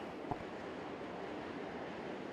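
Waves wash in at the water's edge as a soft, steady surf with a faint breezy hiss, heard alone and at a distance.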